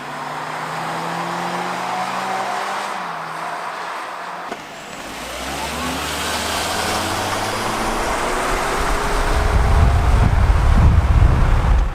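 A Toyota Corolla hybrid with a 121 horsepower engine drag races a standard Corolla: engine tones rise and sweep alongside wind rush, with the motor noise building louder toward the end.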